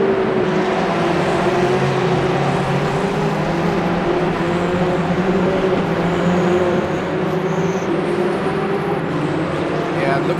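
Aston Martin race cars in Le Mans Ultimate at Bahrain International Circuit, a steady loud engine drone with shifting pitch as cars come around, under continuous commentary.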